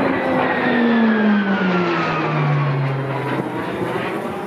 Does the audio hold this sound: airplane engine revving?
yes